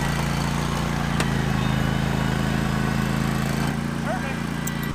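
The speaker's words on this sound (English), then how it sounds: "He's got a little John Deere 320 lawnmower." A John Deere 320 riding lawn mower's small engine drones steadily at close range while driving through a ditch, a constant low hum with a brief rattle near the end.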